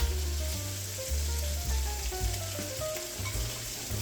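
Fried rice sizzles loudly in a hot pan as it is tossed, a steady close frying hiss with soft stirring shuffles and low musical tones underneath.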